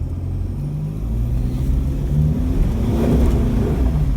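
Off-road vehicle engine revving steadily and loudly on a rough track during a hard left turn, a continuous rumbling drone with rising throttle toward the end.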